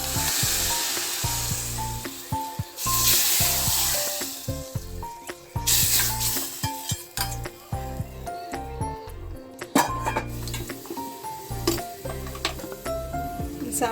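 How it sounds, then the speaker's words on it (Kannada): Hot oil tempering seasoned with chilli powder poured into boiled vegetable dal sambar, giving a loud, steady sizzle and crackle with clatters and stirring knocks throughout, no voices. "ಕುದ್ದಿರೋ ಸಾಂಬಾರಿಗೆ ಒಗ್ಗರಣೆ ಹಾಕ್ಕೊಂಡು ಆಯಿತು."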